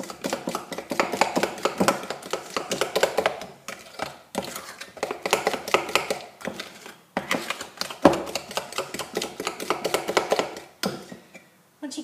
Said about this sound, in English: You want to beat these in until they're nice and creamy.